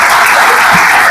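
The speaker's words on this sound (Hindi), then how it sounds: "आप जोरदार तालियां बजाइए।" A brief burst of loud, dense clapping from an audience at a hospital ceremony honoring a doctor's family, steady and close for just over a second.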